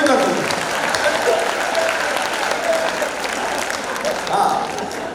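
An audience at a live comedy poetry show in the Mewar region claps loudly and steadily, a dense wash of applause lasting about five seconds with some crowd voices mixed in.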